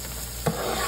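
Flour and grease cook into a paste in a pan for pork chop gravy, a quiet steady sizzle broken by one brief stir or scrape midway.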